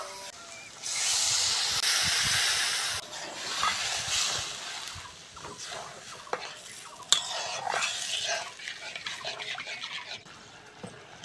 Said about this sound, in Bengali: মশলাগুলো ভালো করে বন্ধুরা কষে নিয়েছি, এবার জল দিয়ে দেবো।